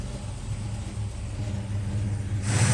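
A 1972 Chevrolet Monte Carlo with a numbers-matching 350 V8 and dual exhaust idles with a deep, steady rumble close by, then swells louder near the end.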